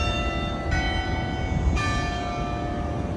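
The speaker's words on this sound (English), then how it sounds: "Today, its bells can be heard all throughout the sounding area." Bells of Park Street Church in Boston ring out close and loud, with two bright strikes leaving long sustained metallic overtones that ring on beneath a steady background rumble.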